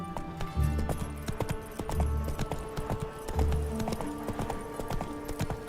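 Geralt's horse Roach from The Witcher 3 gallops in rhythmic clip-clop bursts of hoofbeats, close and fairly loud over a busy game soundscape, with a brief snort or whinny.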